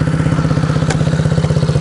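A motocross enduro bike's engine runs close up with a steady, fast, throbbing idle after starting, loud and even, with no talk over it.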